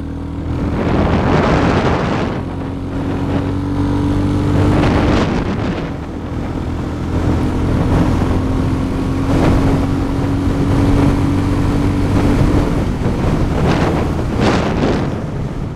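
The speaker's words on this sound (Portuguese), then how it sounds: "Uma delícia ouvir o ronco dessa moto aqui" A Royal Enfield Classic 350 motorcycle engine rumbles steadily, a smooth, loud, continuous drone heard up close. Heavy wind buffets the microphone throughout, and no one speaks.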